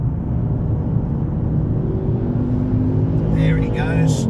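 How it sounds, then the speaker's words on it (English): Ford Mustang convertible on a Pyrenees mountain road toward Port d'Envalira, heard as a steady engine and road rumble throughout; higher whining tones emerge near the end as a car closes in and passes. "We've got a Ford Mustang behind me, a convertible."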